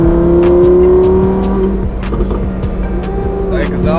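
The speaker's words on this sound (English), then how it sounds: "The exhaust, the way it shoots back," A rebuilt Lamborghini Huracan Performante exhaust roars loud and close while driving, a sustained droning engine note that eases off, with someone talking over it.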